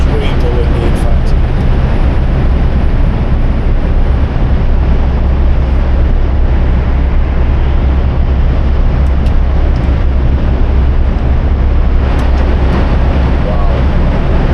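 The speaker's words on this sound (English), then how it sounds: "As you can hear, extremely windy in fact." Strong wind buffets a microphone on a walk near vineyards in Castilla y León, a loud, steady low roar running the whole time with brief rushes of passing traffic.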